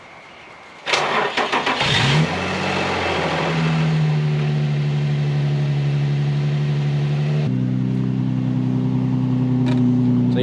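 A Nissan Skyline's engine cranks and catches, revs briefly, then settles into a steady idle that shifts slightly in pitch near the end. No talking.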